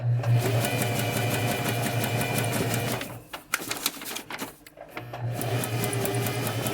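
A sewing machine stitches a test line on paper, its needle hammering in a fast steady mechanical rhythm close by, pausing briefly midway with a few clicks before running again.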